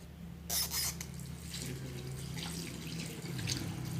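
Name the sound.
hands rinsed under running tap water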